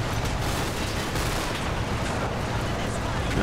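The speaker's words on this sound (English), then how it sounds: "the machine gunner shooting at that over there" Machine gun fire in the World War II Normandy hedgerow game Combat Mission: Battle for Normandy crackles in a dense, continuous wash of rapid shots and battle noise, steady and loud throughout.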